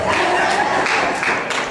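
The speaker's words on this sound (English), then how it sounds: "Stroke your feet, clap your hands." Church congregation at a Baptist anniversary service, clapping hands and stomping feet together in a dense, steady burst of claps and thumps with crowd noise over a short stretch.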